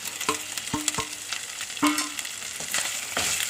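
Curry leaves and chili, coriander, turmeric and fennel powders fry in a pan for a sardine chili curry. Close, loud sizzling with sharp crackles and pops, mixed with the scrape of stirring.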